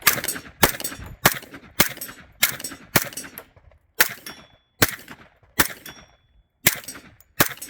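A CMMG Banshee MK10 short-barreled rifle fires about a dozen sharp, loud shots at an outdoor range. The shots come in a steady, evenly spaced rhythm, and each crack rings briefly and then decays between rounds.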